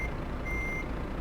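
Reversing beeps sound from a truck in the game Euro Truck Simulator 2, a single clear tone over a low engine rumble, with no voices.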